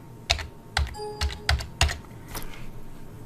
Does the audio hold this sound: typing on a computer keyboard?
yes